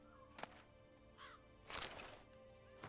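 Crows caw in The Witcher III video game, a few harsh calls spaced out over quiet game ambience with no talking.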